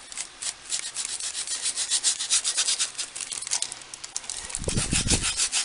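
A small sponge dabbed and rubbed across a mixed media album cover, giving a steady papery scuffing with rapid strokes, close and fairly loud, with a heavier rubbing burst near the end.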